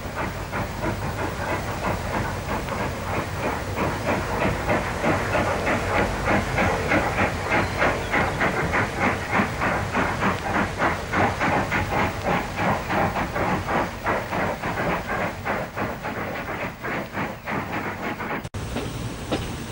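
A narrow gauge steam train, headed by two steam locomotives hauling failed railcars, runs steadily past with rhythmic chuffing and clattering wheels over a constant hiss, loud and continuous throughout.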